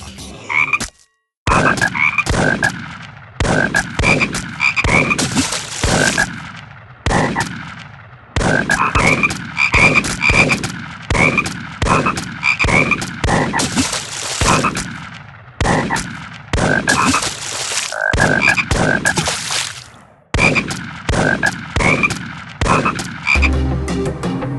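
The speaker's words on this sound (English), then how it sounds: "Frog hop bonus." Frogs croak loudly and repeatedly in the Big Buck World arcade hunting game, a long rhythmic series of sharp, punchy croaks in clustered bursts with brief pauses, close and dominant throughout.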